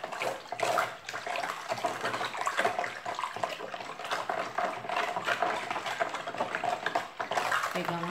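Homemade liquid laundry soap, an Ariel stain-remover copy, being stirred in a container, giving a wet, sloshing, swishing sound with irregular surges that runs throughout while a person talks faintly.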